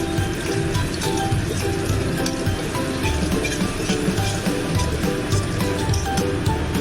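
Green chilies frying in hot oil with garlic in a pan while making chicken bharta, a steady, loud hiss and crackle of sizzling that fills the whole stretch without pause.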